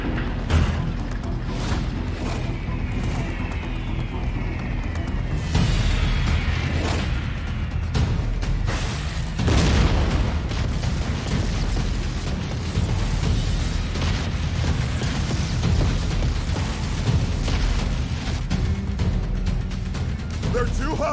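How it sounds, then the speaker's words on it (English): Anime airship bombardment over a fortress, with bombs exploding in a continuous barrage of loud booms and rumbling blasts, mixed with battle noise and shouting voices throughout. "Commence bombardment! Bombs away!"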